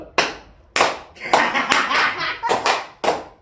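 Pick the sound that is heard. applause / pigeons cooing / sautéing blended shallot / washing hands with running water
applause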